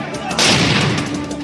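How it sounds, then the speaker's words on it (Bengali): A loud crude bomb blast bursts out during a violent clash at a cooperative election in Nandigram, a sharp broadband boom rising abruptly and lingering briefly. "শুরু হয়ে যায় ইট বৃষ্টি, হয় বোমাবাজি।"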